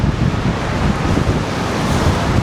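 Extreme wind during an orange alert in Benidorm, roaring steadily and loudly across the microphone in a dense, rushing buffet that never lets up for the whole stretch.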